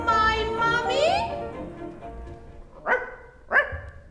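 A dog barking in a children's story scene, two short sharp barks near the end, following a stretch of sung or melodic voice.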